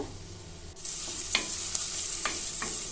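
Onions frying in a spoonful or two of oil in a pan give a steady close hiss, with a few light scraping stirs rising briefly above the sizzle.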